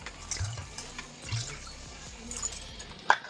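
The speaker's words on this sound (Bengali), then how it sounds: "এবার পরিমাণ মতন জল দেবো" Water pours into a cooking pot that already holds chili powder and green chilies, a soft splashing stream close by with small knocks and clinks around it.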